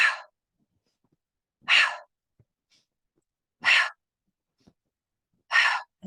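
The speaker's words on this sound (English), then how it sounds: "It's like a bellows breathing." Qigong bellows breathing during a guided session: four sharp, forceful breaths spaced about two seconds apart, each a short rushing burst close to the listener, with near silence between them.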